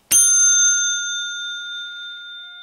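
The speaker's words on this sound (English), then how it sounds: "here is the Otis bell." A single loud Otis elevator bell strike rings out alone, its bright metallic tone sustaining and slowly fading over a couple of seconds.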